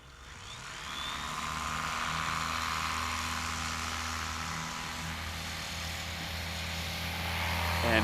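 A STOL airplane takes off during a short-takeoff competition practice, its propeller engine droning steadily with a low hum and swelling louder toward the end.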